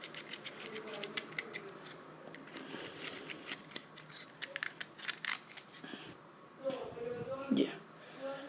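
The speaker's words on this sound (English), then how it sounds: "a pair of scissors." Metal scissors scrape rust from the chimney of a Zippo lighter, giving a run of sharp, close, irregular scratching clicks, with low talk underneath and a quieter stretch near the end.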